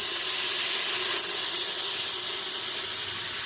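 Red wine hitting a hot pan just used to sear pork, giving a steady, bright sizzling hiss of steam that holds at an even level throughout without talk.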